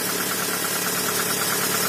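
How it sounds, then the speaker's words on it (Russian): A cold Toyota RAV4 engine idles steadily and close by, with a slight, faint knocking from a valve lash compensator ticking through the continuous hum. "мотор совершенно холодный, но работает ровно"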